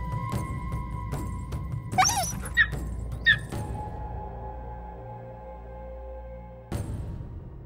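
Sled dogs on a snowy trail in the high Jura valleys give a few sharp yips and whines over a steady background hum, with a louder burst near the start and another short cry near the end.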